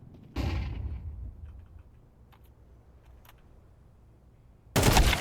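AK rifle gunfire in a video game comes as a loud short burst near the start and another at the very end, with quiet faint clicks and taps in between.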